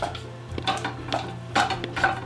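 Soft scraping and clinking of a utensil crushing Bleu d'Auvergne cheese against a saucepan over very low heat, several short strokes close by with no talking.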